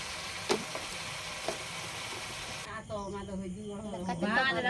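Tomatoes frying with ginger-garlic paste in a pan give a steady sizzle, with a few soft clinks near the start and a voice talking over the cooking in the second half.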